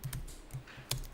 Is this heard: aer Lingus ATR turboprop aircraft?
no